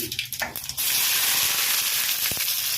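Onions hit hot oil in a pan for egg curry, bursting into a loud, steady sizzle and hiss that carries on after a few short clatters at the start.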